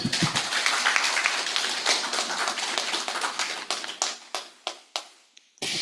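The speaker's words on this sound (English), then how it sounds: "So, can we give applause to Miss Anna again" Applause from a lecture audience at an international general lecture, dense clapping at first that thins out into a few scattered, distinct claps before stopping, with one last burst at the end.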